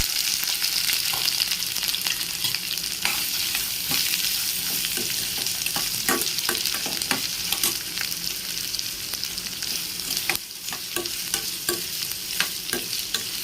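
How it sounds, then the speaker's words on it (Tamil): Onions and curry leaves frying in oil in a pan for a Tamil mutton gravy, a steady sizzle broken by repeated scraping stirs of a spoon, close and alone with no talk. "இப்போ வெங்காயம் கருவேப்பிலை ஆட் பண்ணிக்கிறேன்"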